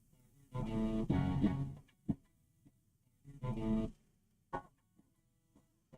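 Two bursts of distorted electric guitar chords through a Line 6 Helix amp modeler, each ringing for about a second, followed by short muted picked notes and quiet pauses.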